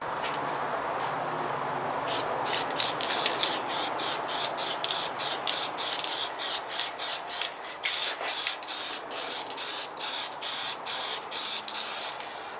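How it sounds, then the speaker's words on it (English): A spray can lays a second protective coat over a decal on a DS-8 drum synth, first a steady hiss, then a rapid series of short, evenly spaced bursts close to the microphone. "And I'm going to spray it now with a second coat of"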